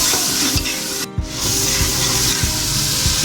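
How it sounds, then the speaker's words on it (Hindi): Lentils (dal) go into frying masala in a pot, a loud, continuous sizzle with a brief dip as they land, then steady frying and stirring noise. "फिर मैं इसमें दाल डाल दूँगी"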